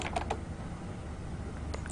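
Typing a command on a computer keyboard to configure a network router: a few soft key clicks near the start and again at the end, quiet and close, with no talking.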